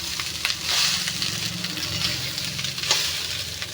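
Biryani frying in a home kitchen, a steady close sizzle with scraping stir strokes breaking through now and then, continuing alone without talk.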